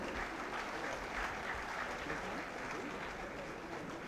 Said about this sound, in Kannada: ದಯವಿಟ್ಟು ಜೋರಾದ ಚಪ್ಪಾಳೆ ಬರಲಿ